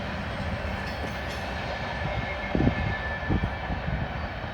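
A Norfolk Southern freight train rolls through an elevated curve at speed, a loud, steady rumble and roar with a few rhythmic wheel clacks building toward the end, no voices.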